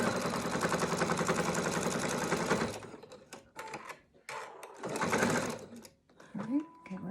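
A sewing machine runs in a fast, steady burst while double-stitching a folded half-inch fabric casing for elastic, then falls into short, intermittent stitching runs as a person talks nearby.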